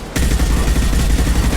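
Incendiary ammunition firing in Mass Effect 2, a dense, loud fusillade of rapid shots rolling on without pause after a brief quiet start, with no talking over it.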